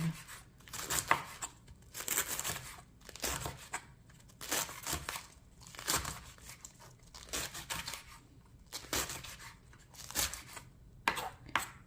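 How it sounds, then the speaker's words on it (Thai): A knife chops artichoke flowers for fritters, making a long run of close, crisp cutting strokes in an uneven rhythm, with brief pauses between bursts and no talking. "ก็หั่น แบบเอาที่สะดวกเอาที่หั่นง่ายเลยค่ะ"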